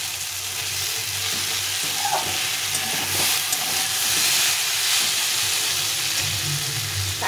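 Masala for a taro curry frying hard in a wok, a loud, dense, continuous sizzle with steamy hiss and a few faint scrapes of stirring, close, with no talking.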